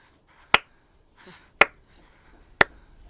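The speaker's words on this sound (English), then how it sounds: "I'm just going to do the slow claps for..." Three slow, evenly spaced claps ring out alone, each a sharp, close hand strike about a second apart, with faint rustling in between.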